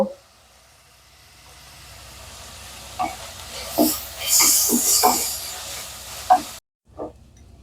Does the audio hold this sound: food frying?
yes